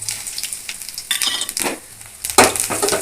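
Fennel seeds hit hot groundnut oil in a pan, giving a close sizzle with bursts of crackling and a few metal clinks and scrapes, loudest near the end, with no voices.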